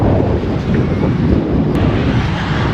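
Loud, strong wind buffets the microphone in a constant heavy roar, close and rumbling throughout.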